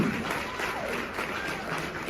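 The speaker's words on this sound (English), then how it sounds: "Please, big round of applause for all our speakers in Wave 3." Applause from a crowd fills the clip, a dense steady patter of many hands clapping at moderate volume.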